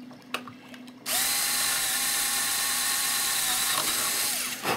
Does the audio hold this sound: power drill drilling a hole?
yes